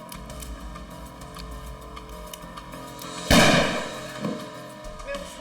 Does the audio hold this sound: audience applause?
no